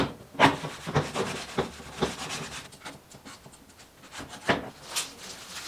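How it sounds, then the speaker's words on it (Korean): A surface on a camper van sink countertop being wiped down with alcohol: a series of soft, close rubbing strokes with brief swishes and scuffs in an irregular rhythm, faint and unaccompanied by talk. "이제 알콜로 살짝 표면을 닦아줄게요."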